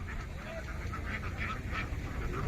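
Ducks quack and honk in a flooded paddy field in light rain, a dense flock calling in overlapping bursts over steady background noise, fairly far off.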